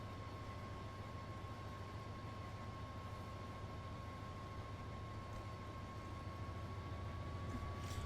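A Class 66 diesel locomotive engine in the video game Train Sim World 5 drones at a steady, even pitch, a continuous rumble with a faint whine running through it and no talking.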